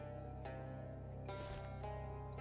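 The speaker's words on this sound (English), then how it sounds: "Distant frog sounds become less distant frog sounds as you find yourself very close to all of the frogs" Low, steady chorus of frogs croaking beside a bog in the game Shadows Over Loathing, a continuous rhythmic drone with a few brief louder swells.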